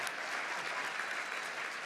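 Audience applause fills a formal press dinner hall in Washington, steady and dense throughout the short stretch with no voices standing out.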